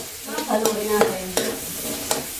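Banana blossom adobo being stirred in a pan, a spoon scraping and clacking in a few distinct strokes over a soft, steady sizzle, close and fairly loud with no speech.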